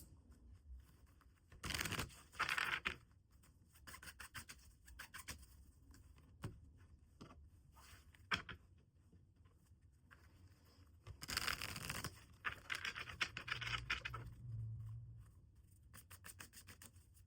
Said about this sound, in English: It felt very intentional as I was shuffling the cards.